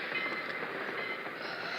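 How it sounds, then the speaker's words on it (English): A passenger train rolls along through open farm country, a steady dense rumble with faint rhythmic clatter of wheels on rails, close and continuous for the whole stretch with no voices. "Oh, the train's slowing down."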